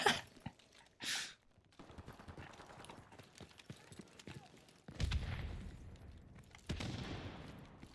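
Gunfire from the Lynx weapon in Modern Warfare Remastered: a sharp burst near the start, then scattered shots and clatter, with louder rumbling bursts of fire toward the end. There is faint background game noise between the bursts.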